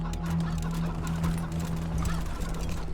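Chickens in the Wasteland 3 video game cluck softly and repeatedly over a steady low game hum, with no talk.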